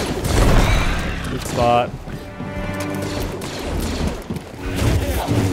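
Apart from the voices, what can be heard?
blaster gunfire in Star Wars Jedi Fallen Order video game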